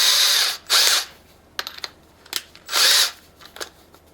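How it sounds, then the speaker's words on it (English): A power drill cuts a countersink in two loud bursts of high whirring. Quieter clicks and brief taps of handling fall in between the bursts. "Now then we'll do the countersink."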